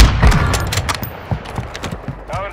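Gunfire in Call of Duty: Warzone 2.0, loud sharp shots and short bursts clustered early then spaced out into scattered cracks with echoing tails, no voices.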